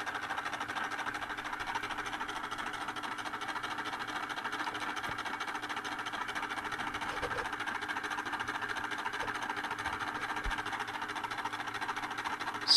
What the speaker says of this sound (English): The motor is scanning a lot more rapidly.